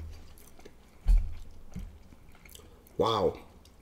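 Chewing of dumplings during a mukbang at Northern Dumpling Kitchen, close and wet with two louder bursts of biting and mastication amid quieter mouth sounds.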